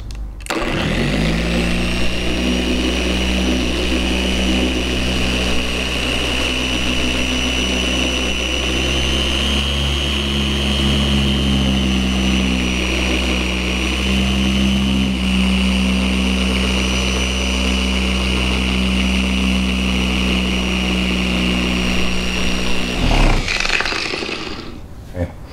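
An orbital car paint polisher with a pad runs at low speed on a car's paintwork, a loud, steady motor hum with a constant whine that holds for over twenty seconds and then cuts off abruptly.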